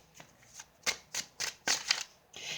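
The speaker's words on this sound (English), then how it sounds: "I'm going to draw a few more cards." Tarot cards being shuffled in a run of soft papery riffles and slaps, about seven bursts over a couple of seconds, close and fairly quiet with no talking.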